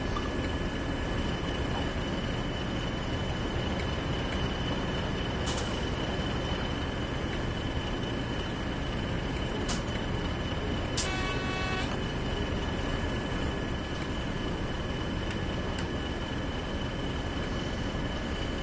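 A locomotive by Rivet Games in the Train Sim World video game runs with a dense, steady engine rumble and broadband noise throughout, with a few brief clanks and a short whistle-like toot partway through.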